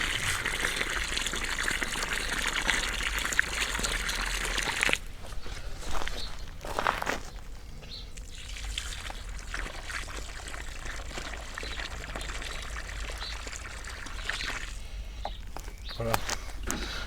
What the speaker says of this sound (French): Un petit coup d'arrosage.